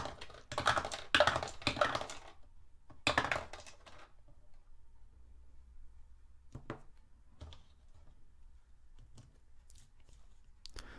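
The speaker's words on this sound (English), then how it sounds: "So let's roll the dice." Dice rolled during a naval tabletop wargame, three dice giving a quick cluster of loud clattering rattles near the start, a second burst around three seconds, then a few faint scattered clicks in near silence.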